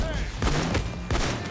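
Shotgun blasts in the Payday 2 heist game, two or three heavy booming shots spaced apart, loud and close over constant background game noise.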